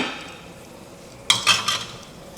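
Curry chicken back with dumplings simmers quietly over low heat, then a utensil briefly clinks and scrapes against the pot three or four times, close and fairly faint.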